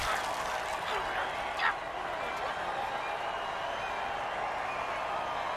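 A crowd in a football video game reacts after an extra-point kick. A steady stadium wash of murmuring and scattered applause plays under a commentator's voice.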